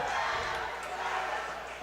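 A school student section cheers together during a volleyball timeout in a gym, a dense, steady roar of young voices with a commentator talking over it.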